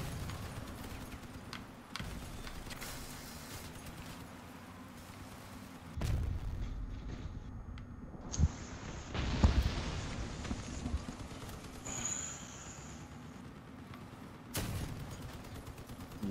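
Scattered booming cannon shots and blasts from the video game Crossout, some sharp and close, others muffled, over a low rumbling background with rhythmic clattering.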